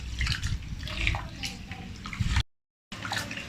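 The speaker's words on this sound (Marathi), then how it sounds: "हे चांगलं तीन चार पाण्याने स्वच्छ धुवून घ्यायचं" Ration rice being washed by hand in water for idli batter, giving a steady, close sloshing and swishing that runs continuously, breaks off briefly for a silent moment, then resumes.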